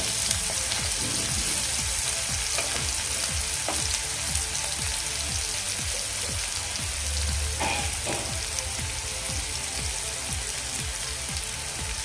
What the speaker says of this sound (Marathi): आता हे आपण व्यवस्थित मिक्स करून घेऊया परतून घेऊया व्यवस्थित गॅसची फ्लेम आपण लो करून घेऊया